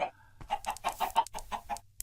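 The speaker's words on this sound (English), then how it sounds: "Yeah, it's full of chickens under there." Hens clucking from a crawlspace beneath a floor, a flock of chickens trapped below the boards, giving a steady run of rapid, close clucks and chatter with no voices over them.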